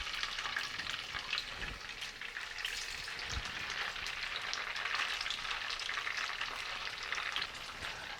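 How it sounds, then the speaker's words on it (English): Tofu frying in a hot pan of vegetable oil: a steady, close, dense sizzle and crackle running throughout, with a couple of low thumps as pieces shift in the pan. "So we have a hot pan with vegetable oil. We're gonna place the tofu in."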